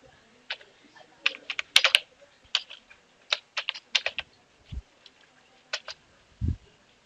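A computer keyboard is clicked at an irregular pace as an unzip command is typed on Linux Mint. The crisp, close keystrokes come in quick clusters with short pauses between them, and a couple of dull thumps mix in. No one speaks.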